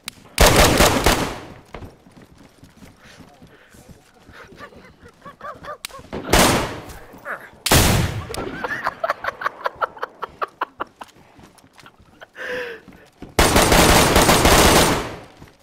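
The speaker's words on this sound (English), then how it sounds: "I just shot him straight in the back of him" Bursts of rapid automatic gunfire in a video game roleplay session, several loud sprays separated by pauses, with one stretch of distinct evenly spaced single shots in the middle, close and harsh.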